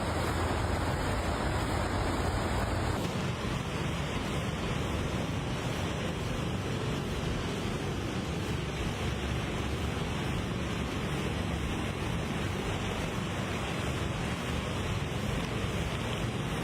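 Continuous loud, broadband rushing roar of Texas flash flood water, unbroken and dense throughout with no voices.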